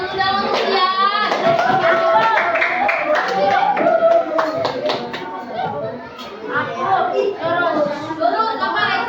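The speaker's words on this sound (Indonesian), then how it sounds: "Tepuk tangan dulu dong, Lucian." A primary school class claps during a lesson, a dense, steady patter of many small hands lasting several seconds, mixed with children's chatter and talk.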